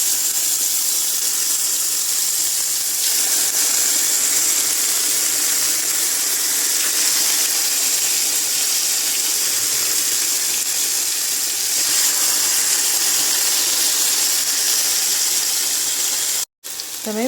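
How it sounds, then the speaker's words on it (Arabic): Chicken breasts searing in a very hot pan, a loud continuous sizzle and hiss that holds steady with slight swells, ending in a brief clatter near the end, no speech over it. "ونحطها دلوقتي في طاسة ساخنة جدا علشان نديها صدمة من كل جهة"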